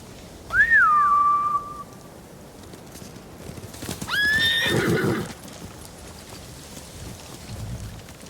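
Two long, loud horse whinnies ring out one after another in the Ghost of Tsushima video game, followed by a quieter stretch of rain-like ambience with faint hoofbeats.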